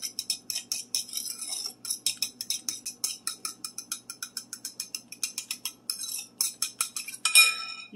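A spoon or whisk stirring cake batter with vanilla in a bowl gives rapid, rhythmic clinks and scrapes against the bowl, steady and close, with no talking.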